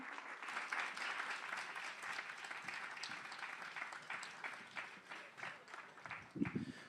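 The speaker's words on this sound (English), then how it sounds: "So I would ask you just maybe to put a little extra love, energy, and support into your applause" A pub audience at a live show at The Bedford applauds warmly to welcome comedian Tony Moore to the stage, with steady sustained clapping that fades slightly near the end as a voice briefly comes in.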